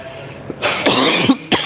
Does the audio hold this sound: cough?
yes